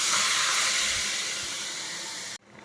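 Chicken hitting a hot pan with no oil gives off a loud, continuous sizzling hiss that slowly eases, then cuts off abruptly near the end.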